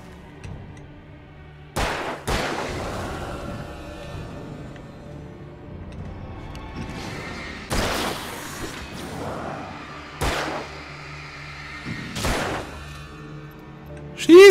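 Gunshots in Alan Wake at Lover's Peak, several loud, sharp single blasts spaced seconds apart with thuds and scattered impacts between them, over a quiet, murmuring background; someone talks in between.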